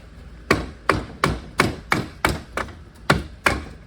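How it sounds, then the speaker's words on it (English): A dead blow mallet strikes a silicone-sealed Toyota/Lexus A761H automatic transmission case with integral transfer case, giving eight sharp, close thuds at a steady rhythm roughly every half second with no talk. "I'm going to have to give it some massaging with this dead blow mallet"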